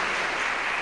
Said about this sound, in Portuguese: Aplauda o Senhor, aplauda o Senhor, se coloca de pé.